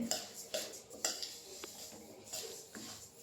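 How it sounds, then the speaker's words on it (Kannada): White sesame seeds are stirred while they roast in a pan: a spoon scrapes and clinks against the metal in soft, irregular strokes, close and faint, with no talking. "ಚೆನ್ನಾಗಿ ಹುರಿತಾ ಇದ್ದೀವಿ"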